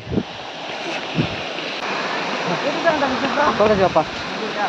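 A waterfall roars with a steady, loud rush of water that fills the whole scene, while voices talk over it.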